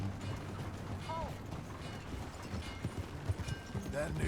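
Horse hooves clip-clop at a steady walking pace in the Red Dead Redemption 2 video game, soft and fairly distant, with creaking tack and low background ambience and some voices talking over them.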